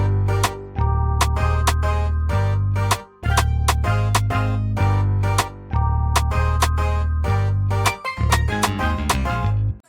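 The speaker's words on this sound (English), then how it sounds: "For this one, I went for a rim, so it sounds like this." A 2000s R&B beat uses a sharp rim hit as the snare, clicking in a bouncing pattern over a loud sustained bass line with repeated bright percussive accents, and no voices present.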